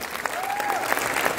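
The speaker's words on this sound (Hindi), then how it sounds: "सो इसके लिए एक जोरदार तालियां हो जाए." Festival audience applause, a steady wash of clapping for about a second and a half, fairly loud and close, with faint crowd murmur and a brief whistle-like tone.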